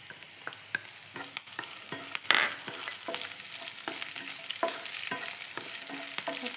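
Steady frying sizzle of green chillies and garlic with repeated sharp scrapes and taps of a spoon stirring in a pan, fairly close, no voices.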